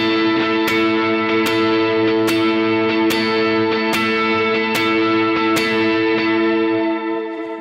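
Electric guitar with chorus, delay and reverb effects playing a sustained chord with nine evenly spaced diamond hits, each sharp strum ringing out into a shimmering wash, close and loud with no talking.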